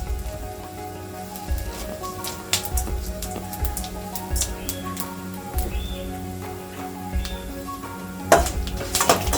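Fennel, pepper and coriander seeds dry roasting in a pan, a continuous crackling patter like light rain with scattered clinks of a utensil against the metal, close and moderate under a low background hum.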